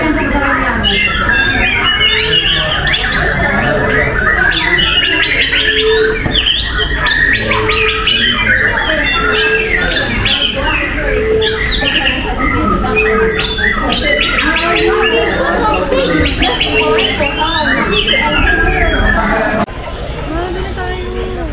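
Many birds chirp, squawk and coo in an aviary at Singapore Bird Paradise, a dense, steady layer of calls that runs throughout while people talk over them.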